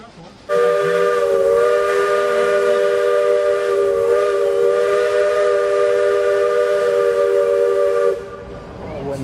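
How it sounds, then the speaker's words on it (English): A loud, sustained steam train whistle blows for about eight seconds among redwoods at Roaring Camp, steady and harmonic, then cuts off. "When the trains go through the redwoods, it's just beautiful."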